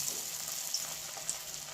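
Egg pieces dipped in batter sizzle in hot oil in a wok, a faint, continuous crackle with a couple of small pops over a brief moment.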